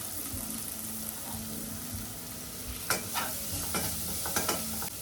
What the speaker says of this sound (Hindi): I'm going to let this aloo and mutton absorb the flavors of the masalas